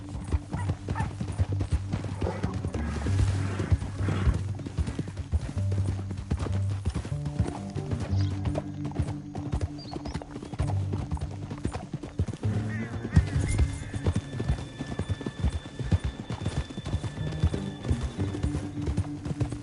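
Steady clip-clop of horse hooves galloping throughout a PS4 video game, with occasional neighs and a low background hum, no voices heard.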